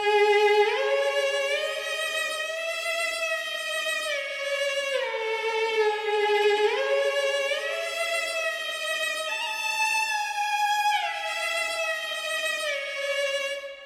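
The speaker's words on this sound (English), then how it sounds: "Once I added all of those effects, the violin sounds like this." A dark orchestral violin patch built in FL Studio with vintage tape-style effects plays a slow, sustained melody of long bowed notes with gliding pitch changes, steady and loud, alone with no other sounds.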